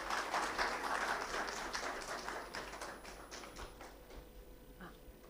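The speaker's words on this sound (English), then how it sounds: "Please welcome with a round of applause." An audience gives a guest of honor a round of applause, with many hands clapping in a dense burst that gradually thins and tapers off over a few seconds.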